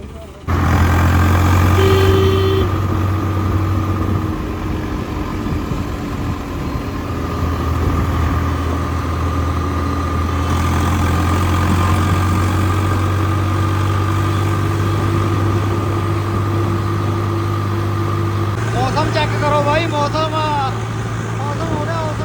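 A Mahindra Arjun Novo tractor engine runs steadily on a long road trip, giving a loud, close, constant drone with a faint shift in pitch. Voices talk over it now and then.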